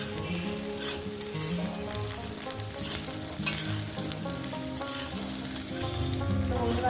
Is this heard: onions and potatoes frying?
yes